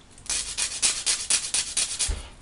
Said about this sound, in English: come in with a very coarse sanding stick and just taking the edges down